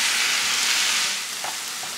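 Chopped tomatoes frying with ginger and garlic in a hot pan for baigan bhartha, a loud, close, continuous sizzle that settles slightly softer partway through, with a light utensil scrape and no talking.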